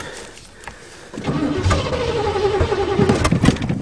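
Old Chevy-engined car cold-starting on choke, with a quiet starter crank followed by the engine catching and settling into a loud, rough, uneven idle close by.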